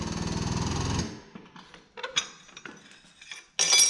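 A CH-70 35-ton hydraulic hole punch press drives through metal. It opens with a second of loud, rhythmic pulsing pump drone. Sparse metallic clinks and clicks follow, then a sharp, loud burst at the end.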